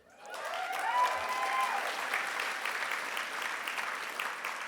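Audience at the ACLU of Southern California Bill of Rights Dinner breaks into applause, clapping rising quickly to a full, steady roar from a large room and holding for several seconds.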